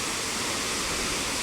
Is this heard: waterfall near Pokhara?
yes